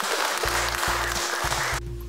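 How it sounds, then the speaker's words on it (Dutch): Applause from an audience at a gathering of retired pensioners, a dense steady wash of clapping that carries on for about two seconds before cutting off abruptly, with a low hum running underneath. "Ik wil zeker een applaus daarvoor hebben."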